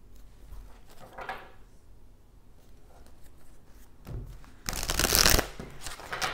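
Tarot cards being shuffled and drawn in a reading: soft rustling and sliding of cards, then a loud, dense burst of riffling near the end, close up and with no voices.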